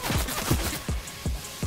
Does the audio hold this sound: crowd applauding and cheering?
no